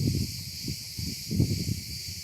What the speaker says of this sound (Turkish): Cırcır böceğin sesini duyuyorsunuz değil mi?